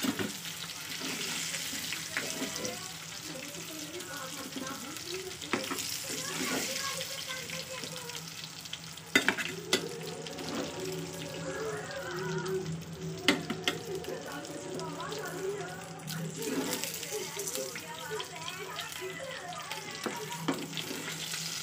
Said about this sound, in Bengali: তো ভাজা হয়ে গেছে। মাছগুলো আমি এক একে তুলে নেবো।